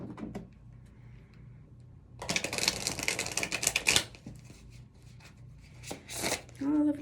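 Oracle cards from a Love Messages deck are shuffled in a quick burst of dense riffling and flicking at close range, then a short pause, more handling, and a low voice near the end.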